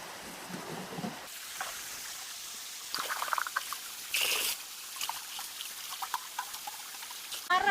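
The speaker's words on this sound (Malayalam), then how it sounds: "കഴുകി ക്ലീൻ ചെയ്തെടുക്കുന്നത് ഈ തോട്ടിലാണ് കേട്ടോ" Stream water trickles and splashes in an uneven rhythm while cardamom is washed, with occasional louder pours and sloshing, close by and without talk.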